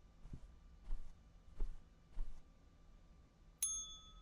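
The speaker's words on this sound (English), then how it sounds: "So if I go back and ring the bell," A single clear ding from a bell in the video game Hotel The Memory rings out after several soft, evenly spaced footsteps, its tone lingering briefly in an otherwise quiet space.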